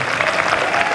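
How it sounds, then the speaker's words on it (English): Audience applause after a drama club performance at a college festival inauguration, a brief burst of steady clapping from a crowd, filling the moment without voices. "have a clap for yourself."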